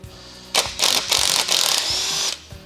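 An impact gun zaps loose the flywheel bolts on a MK4 engine being pulled, giving several close, loud rattling bursts of hammering with short pauses between them.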